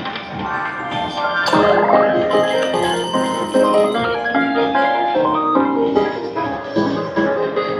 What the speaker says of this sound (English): it's making a little gong, the first one